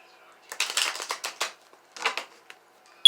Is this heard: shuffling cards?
yes